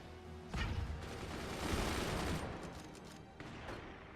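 Gunfire from machine guns and armor-piercing sniper rounds in the strategy game Forts: a dense, continuous fusillade of shots that swells, eases briefly, then resumes, with no talk.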